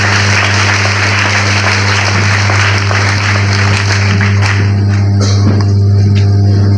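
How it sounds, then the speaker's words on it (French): A crowd applauds at a choir concert celebrating the group's 40th anniversary, dense steady clapping filling the hall over a constant low hum, swelling slightly toward the end. "Ces applaudissements-là"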